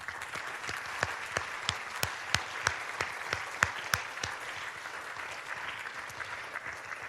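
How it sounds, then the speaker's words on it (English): Applause from an audience in a room at a high school awards ceremony, a steady crowd of clapping with sharp individual claps standing out, sustained throughout at moderate level. "if we could just have a round of applause for everyone in the room."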